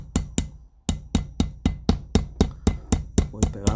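A small rubber mallet taps a bushing into a Renault 5 Alpine atmospheric engine under rebuild, about a dozen sharp, moderate knocks in a steady rhythm, close up and alone.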